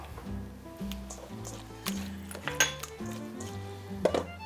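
Pickled cucumber is added to a dish of chicken thigh meat, with scattered clinks and light scrapes of utensils against the dish. The sounds are soft and close, and there is no talking.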